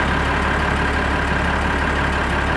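A tractor engine in the Farming Simulator 2013 video game runs at a steady idle, a continuous broadband drone with a low rumble and no variation, heard alone without talk.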